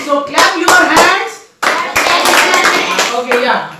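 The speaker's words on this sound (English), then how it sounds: "Clap your hands" Hands clap repeatedly in a classroom, sharp bursts in two loud runs separated by a brief pause, with voices mixed in among the claps.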